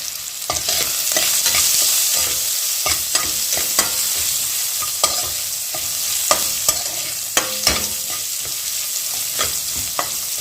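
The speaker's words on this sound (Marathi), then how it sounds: "कांदा पारदर्शक कोपर्यंत भाजून घ्यायचं" Chopped spring onion frying in a pan with turmeric, a loud steady sizzle close by, broken by repeated sharp scrapes and taps of a spatula stirring at irregular intervals.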